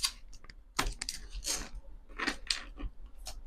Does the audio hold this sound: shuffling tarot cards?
yes